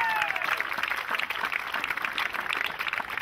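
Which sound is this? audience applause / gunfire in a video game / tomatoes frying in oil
audience applause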